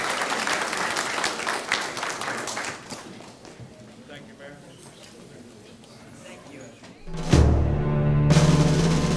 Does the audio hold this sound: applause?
yes